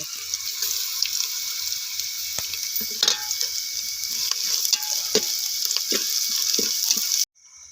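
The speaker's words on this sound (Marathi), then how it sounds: "आता कांदा चांगला लाल भाजलाय आता आलं लसूण चेचलेलं टाकते" Onion frying with crushed ginger and garlic in a pan over a wood-fired stove, a continuous loud sizzle with scraping stirs and occasional clinks, cut off abruptly near the end.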